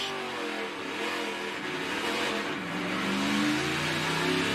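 A NASCAR Camping World Truck Series truck launches off pit road during qualifying at Las Vegas, its engine roaring at high revs in a loud, steady, rising drone with no commentary over it.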